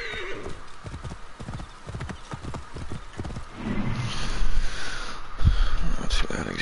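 Black horse in the Assassin's Creed video game, hooves clip-clopping in a steady rhythm, then a whinny and snort as the footfalls blend into ambient game sound, close and moderately loud.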